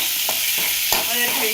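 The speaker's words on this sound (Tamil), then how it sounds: "தக்காளி நல்லா வதக்கணும்" Tomatoes and onions sautéing in a pan for a mango curry. A continuous hiss of frying with a few distinct spatula strokes, close and fairly loud.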